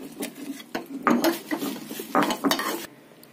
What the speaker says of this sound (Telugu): మిక్సీ పట్టింది దీంట్లో తాలింపులో వేసుకొని కలుపుకోవాలి.